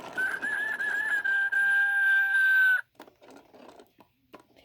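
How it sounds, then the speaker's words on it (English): A See 'n Say pull-string toy plays a rooster crowing sound, one long, close, electronic-sounding cock-a-doodle-doo that ends abruptly, followed by faint clicks and handling noise. "The rooster says."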